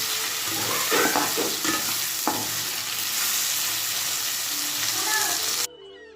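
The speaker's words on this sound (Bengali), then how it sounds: "ভাত ভাজার জন্য দেখো এখানে আমি পেঁয়াজ ক্যাপসিকাম এইগুলো দিয়ে ভালো করে ভাজা ভাজা করে নিচ্ছি" Onions and capsicum sizzle steadily in a hot pan, with occasional scraping and stirring clatters close by.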